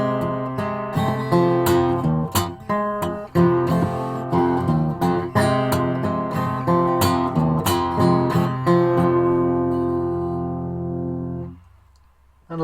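An acoustic guitar plays a blues riff without reaching the high string. Repeated, strongly plucked notes and chords ring for about eleven seconds, then a final chord decays into near silence. No one talks.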